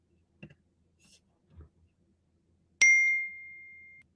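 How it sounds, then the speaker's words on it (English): A phone alert pings once, a clear bright ding that rings out and fades slowly, preceded by a few faint taps and handling noises. "And it pings."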